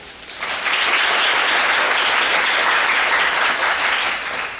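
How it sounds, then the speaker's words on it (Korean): Audience applause at a musical's curtain-call stage greeting, a dense, steady wash of clapping that swells quickly and holds loud for several seconds before easing slightly. "박수 안 치셔도 됩니다."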